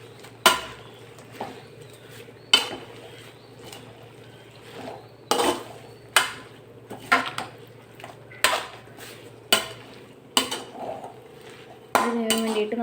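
A metal spoon clinks and scrapes in a pot as greens and dal with turmeric are stirred together, giving sharp, regularly spaced knocks over a low steady hum.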